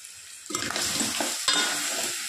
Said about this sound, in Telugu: గరం మసాలా పౌడర్ డన్ వేసుకొని బాగా కలుపుకోవాలి